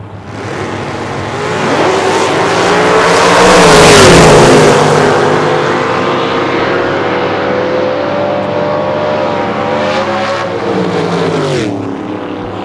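Drag racing at an ANRA season finals eliminations event, a 67 Chevy II Nova against a 72 Chevy Nova, engines roaring loud and close, swelling to a peak as the cars launch and pass, then a long sustained drone.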